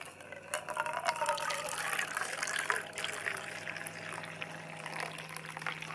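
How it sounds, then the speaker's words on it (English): Water pours steadily into a single cup of Folgers instant coffee outdoors, a continuous trickling fill heard up close with a low hum underneath and no talking. "let's see if we can get some nice little pouring action here"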